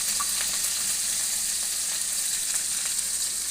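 Mustard seeds, green chili and curry leaves sizzle in hot oil while making mint rasam, a steady close hiss with faint crackles and pops scattered through it, no voices.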